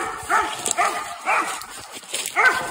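A hunting dog barks four times at a steady rhythm at a treed animal, each bark rising and falling, somewhat distant, with no voices present.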